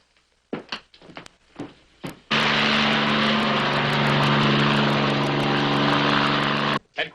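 A police helicopter's engine and rotor roar up suddenly and hold loud and steady for several seconds, following a few short knocks and thumps before it starts.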